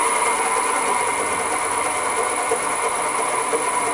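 A mini lathe runs at 850 RPM, producing a steady, loud, unbroken mechanical whine and hum with a constant high tone and no voices.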